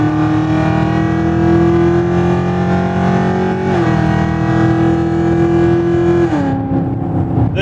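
A 1,000 hp Hennessey Exorcist with a Borla exhaust idles and revs loudly at a drag strip, its engine note holding a steady rich drone and then shifting down in pitch twice.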